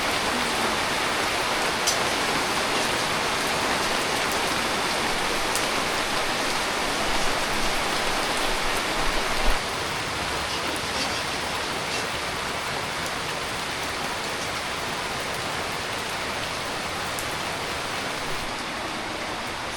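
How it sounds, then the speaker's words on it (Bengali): Heavy rain pours steadily in a dense, even hiss that continues unbroken throughout, with a faint low thump midway; no one speaks. "এখন শুনে নামলো জোরে বৃষ্টি"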